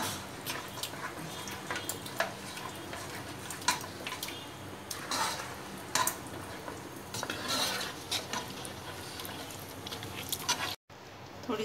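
Mutton haleem being stirred in a pan on low heat, with a spoon scraping and clinking against the metal in repeated strokes, close and steady, plus soft wet pattering; a brief dropout near the end.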